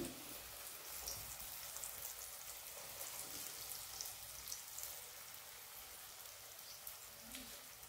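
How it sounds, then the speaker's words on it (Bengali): Bread slices frying one at a time in a pan over a lowered gas flame. A soft, even hiss of oil carries on without pause, fairly quiet and close, with no voices. "এগুলো একটা একটা করে দিয়ে ভেজে নেব"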